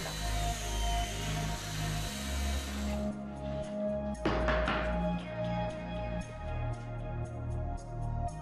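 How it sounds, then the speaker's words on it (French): A handheld router cuts dowel holes into a wooden board for a tool trolley, guided against the edge with a spacer block; a steady, loud motor whine runs throughout, with a sharper burst of cutting noise near the middle. "placez la fraiseuse contre le bord, ici aussi à l'aide de la cale"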